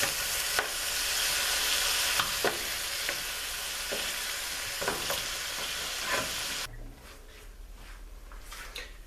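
Pork neck bones fry and brown in a pan with a loud, dense sizzle and scattered spatula knocks, then the sizzle drops to a quieter crackle as the pieces are lifted out.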